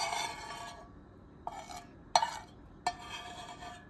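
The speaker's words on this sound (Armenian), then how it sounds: "Ավելացնում ենք արդեն սառած շոկոլադը" A spoon scrapes and stirs cooled chocolate into a coffee mixture in a bowl, several short gritty strokes with small sharp taps against the side, close and fairly loud, no voices.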